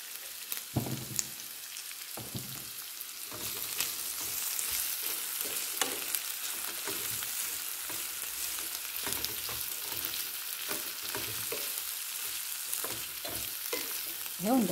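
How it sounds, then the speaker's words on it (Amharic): Meat tibs with onion, seasoned with salt and black pepper, sizzle in a pan for an Ethiopian dish. A steady crackling fry runs throughout, broken by frequent scraping stirs and tosses. "ይኸው እንደዚህ ቆንጆ እያደረግን ደግሞ እያገላበጥን ትንሽ ሽንኩርቱ ደግሞ ጠበስ ብሎ ጣዕም እስኪይዝልን ድረስ እንጠብሰዋለን"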